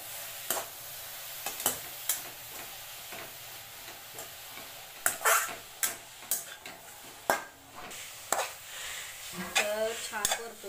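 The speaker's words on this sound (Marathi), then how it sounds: "मी तुपामध्ये गाजर किसलेले टाकलेले, थोडे एक 2 मिनिटासाठी आपण थोडे परतून घेऊया" Grated carrots sautéing in ghee in a pan for carrot halwa, giving a low sizzle under repeated sharp clinks and scrapes of a spoon against the pan, fairly quiet overall with a brief rattle near the end.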